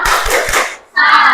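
A primary school class doing a short rhythmic clapping chant, several sharp hand claps in quick succession, then a brief pause and a burst of children's voices, recorded close in a classroom.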